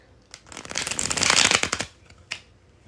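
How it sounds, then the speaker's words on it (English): Tarot cards being bridge shuffled: a dense riffling burst that swells for about a second and a half, followed by a soft single snap as the deck settles, close and clear with no talking. "here it is, the bridge shuffle"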